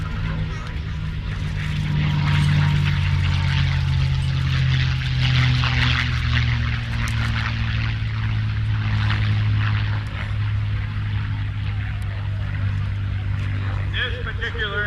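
A radiator-cooled propeller warplane engine runs continuously at an air show, a loud, steady, rumbling drone with a fluttering low hum that holds throughout.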